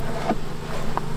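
Honeybees flying around a beehive during a beekeeping hive inspection, a steady low buzzing drone of many insects, close and continuous, with no voices.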